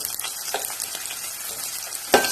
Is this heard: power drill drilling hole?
no